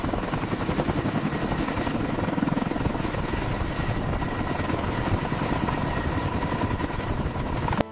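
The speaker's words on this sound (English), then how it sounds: "The helicopter banked away, carrying the past into the future." A helicopter's rotor thrums steadily and loudly throughout, with a dense continuous chop and engine roar that holds near and strong for the whole stretch without fading.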